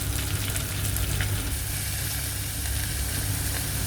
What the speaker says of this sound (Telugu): కొంచెం ఉల్లిపాయ, పచ్చిమిరపకాయలు, కరివేపాకు, చివరిగా కొంచెం కొత్తిమీర కూడా వేసి ఫ్రై చేసుకోవాలి